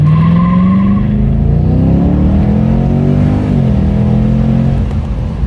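A 2007 Ford Mustang GT on fresh tires launches hard from a dead stop, its loud, close engine note climbing steadily in pitch through the pull with no talking over it.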